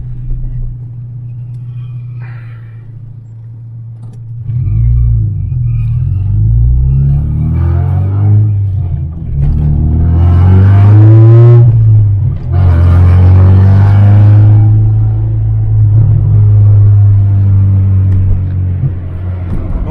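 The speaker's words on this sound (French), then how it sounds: "le B16 c'est quand même un moteur qui gueule" The Honda B16 engine of a Civic EK4 idles, then revs up loudly several times in rising and falling bursts, close and powerful, with a low rumble underneath.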